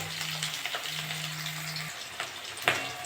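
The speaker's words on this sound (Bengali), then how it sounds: "আমি এবার পেঁয়াজ দিয়ে দেবো। কিন্তু কাঁচা লঙ্কা দিয়ে দেবো।" Onion and green chili sizzle steadily in a hot pan, giving a continuous close frying crackle with a faint tonal hum underneath and a sharp clink near the end.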